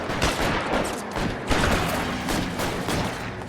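Dense gunfire in the video game LA Noire, a sustained fusillade of overlapping shots and thuds with no clear gaps, loud and continuous throughout.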